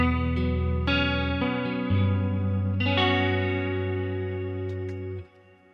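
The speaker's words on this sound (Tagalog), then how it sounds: "Lagyan pa natin chorus." An electric guitar through a Line 6 Pod Go with chorus rings out in sustained, shimmering chords and notes, close and fairly quiet before cutting off near the end.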